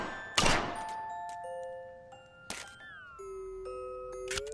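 Shots strike targets in The American Dream VR shooting game, giving several sharp thunks, each followed by a ringing ding-dong chime with sustained tones.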